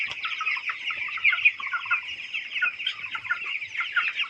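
About 1200 twenty-day-old chickens fill a poultry farm with dense, continuous high-pitched peeping and clucking, a steady chorus of many birds close by, with no talking.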